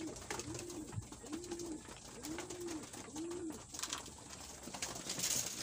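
Racing pigeons kept in a loft under the widowhood system coo in four evenly spaced, rounded calls, close and clear over a light background hiss.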